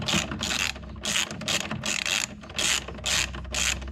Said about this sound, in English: this is removing the fourth bolt